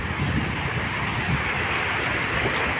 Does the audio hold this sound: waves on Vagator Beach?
yes